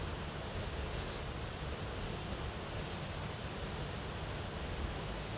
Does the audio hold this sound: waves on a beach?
yes